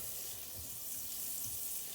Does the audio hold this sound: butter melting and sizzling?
yes